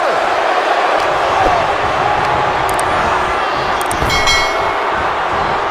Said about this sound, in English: this crowd goes wild for every single bit of it.